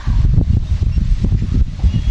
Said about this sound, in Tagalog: Baka bigla makabugso, lakas ng hangin!